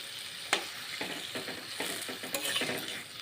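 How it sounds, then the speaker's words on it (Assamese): Potatoes fry with onions in plenty of oil for an Assamese fish curry, a steady close sizzle broken by repeated scraping stirs of a spatula in the pan. "আলুখিনি অলপ সময় ভালকৈ ভাজি লওঁ পিঁয়াজৰ লগত তেলতে"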